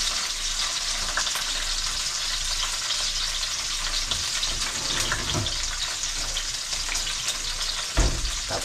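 Food sizzles and fries steadily in reused cooking oil left over from the day before, a constant close crackle with no talk, and one brief louder bump near the end.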